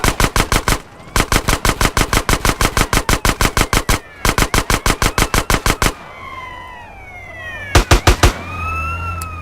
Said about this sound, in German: Aber was ist denn das für Krankenwagen?